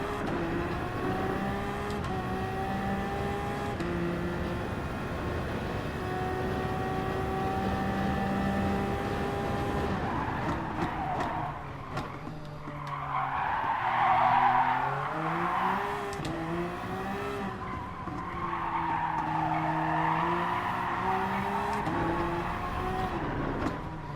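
A Gr.1 race car laps the Nurburgring GP circuit in a racing video game, its engine note climbing and falling through gear changes, with tire squeal and a swelling roar through corners, steady and unbroken without talk.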